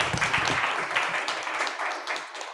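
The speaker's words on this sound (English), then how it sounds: "Round of applause," Audience applause closing a panel session on climate change across disciplines, a brief burst of many hands clapping indoors that fades slightly toward the end.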